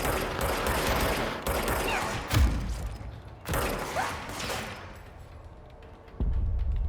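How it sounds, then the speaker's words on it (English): Enemies return fire with guns in the video game Control: loud, close bursts of rapid gunfire and thuds that come in waves, then fade briefly before another burst. "They're shooting back."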